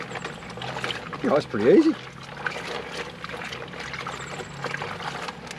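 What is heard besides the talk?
clothes squished around in water in Scrubba wash bag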